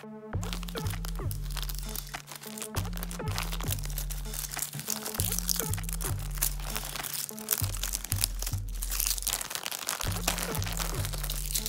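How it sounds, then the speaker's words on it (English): A plastic shipping bag is folded over and its adhesive seal strip peeled off, giving continuous close crinkling and crackling with sharp tearing bursts under a steady rhythmic background beat. "this bag has a seal already on it, so we don't really need much tape for this. So I'll just fold this over and then I'll peel this off."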